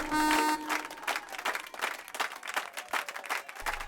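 Audience applause at a competition, greeting two teams before the final round: dense, steady clapping from a crowd that fills the whole stretch at moderate loudness, with a brief tonal burst at the very start.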